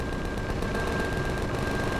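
Rapid gunfire from the space survival game Empyrion, a dense, continuous rattle of automatic shots sustained at steady loudness throughout, with no speech.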